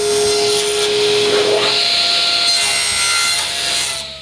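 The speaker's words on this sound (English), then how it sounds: "Then I cut the rest of the edging" A saw cuts through wood edging for a folding table with a loud, continuous rasping drone lasting about four seconds. The tone shifts partway through the cut, heard up close with no talking.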